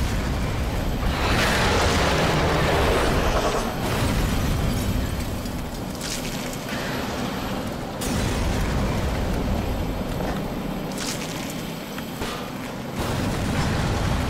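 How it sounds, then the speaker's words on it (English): Continuous loud booming and rumbling explosions from artillery shelling in the video game Black Mesa: Xen, dense bursts overlapping with sharp pops, filling the scene without pause. "Dude, they're being shelled."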